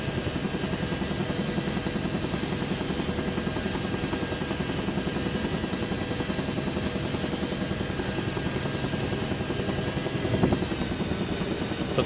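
Steady rotor thump and turbine whine of a Huey helicopter in flight in a video game, loud and continuous throughout with a faint bump near the end.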